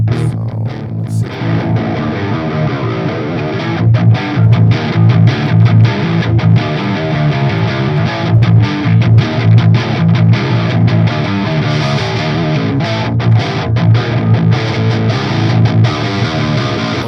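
An electric guitar played through the GX Blue amp simulation on Linux, loud and continuous with distorted strummed chords and a harsh, hissy edge carrying through the whole passage.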